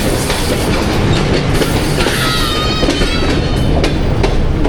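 Rail noise fills a station in Pakistan where a Sialkot–Wazirabad shuttle train stands, a loud continuous rumble with clattering wheels and a faint squeal midway, heard close and steady throughout.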